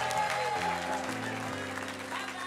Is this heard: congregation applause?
yes